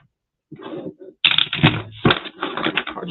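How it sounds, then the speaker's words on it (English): Tarot cards are shuffled quickly by hand in short bursts of crisp riffling and flapping, close to the listener and with brief pauses between the bursts, with no talk over them. "Cards are shuffling quick today."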